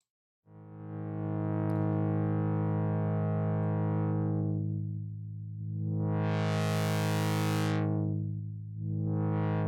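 A loud, buzzy synthesizer drone through a 24 dB filter, its brightness sweeping down and back up, opening into a bright wash before closing again, with no voices.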